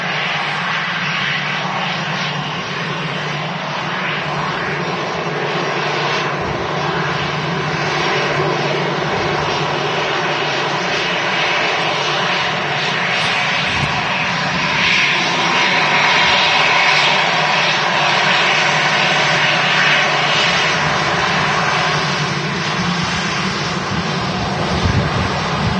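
Brussels Airlines jet airliner at Manchester Airport, its engines roaring loud and steady for the whole stretch, a broad continuous rumble and whine with no talk over it.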